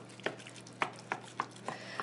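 A spoon works rice into a ground beef casserole mixture in a bowl or pot, giving five sharp scraping knocks at a steady, unhurried rhythm, close and fairly quiet with no talking.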